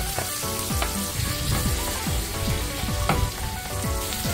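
Garlic, onion and paprika sizzling in a pan for a prawn casserole, a loud steady frying hiss with faint stirring, close and without talk.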